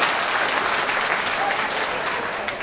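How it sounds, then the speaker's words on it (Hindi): Audience at an Indian mushaira poetry recital breaking into applause, a brief, dense burst of clapping from a large crowd, steady and fairly loud throughout. "तालियां।"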